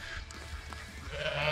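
Sheep bleating in a pen on a farm raising exotic painted sheep ahead of vaccines and hoof trimming, a few faint calls over low background rumble and shuffling, with no talk.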